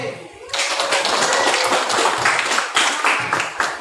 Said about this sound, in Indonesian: mari kita berikan tepuk tangan untuk penampilan kelompok D dan tanggapan dari kelompok B